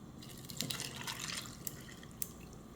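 Spiced tiger nut (atadwe) milk is poured, a faint, steady liquid trickle with a few light drips, close and quiet with no talk.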